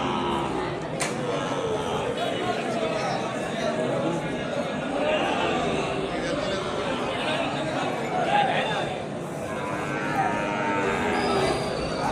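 Bulls low and shuffle at a busy bull and cow market in Krosuru, with people talking loudly throughout over the animal sounds.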